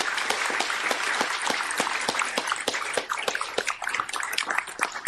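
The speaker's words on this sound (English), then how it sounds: "Round of applause for Dr. Lewis." An audience claps in a steady burst of applause at a hospital grand rounds lecture, individual claps distinct and fairly close, continuing for about five seconds.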